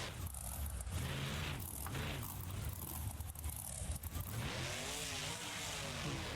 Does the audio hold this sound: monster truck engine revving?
yes